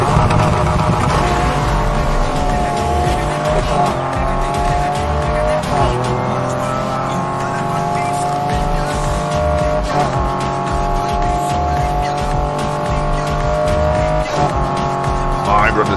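Ford F-150 Raptor truck in Need for Speed Heat, with a big engine roaring loud and steady as it climbs a hill, shifting pitch at several gear changes while someone talks over it.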